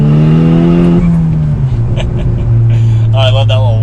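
A Volkswagen Golf R engine with a carbon fiber air intake revs and shifts down, then its turbo whistles and flutters as the car accelerates, loud and close, with a voice speaking.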